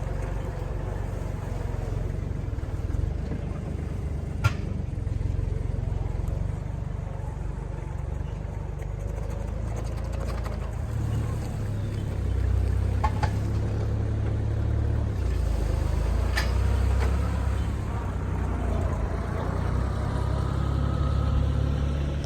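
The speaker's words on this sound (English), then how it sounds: "The tractor should be ready to go." Farm tractor engine running steadily at a low idle on a freezing day, a constant deep drone that swells slightly partway through, with a few faint clicks and clanks over it and no talk.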